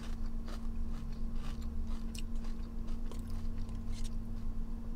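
Crunchy tater tots being chewed up close, with repeated crisp bites and crunches over a steady low hum.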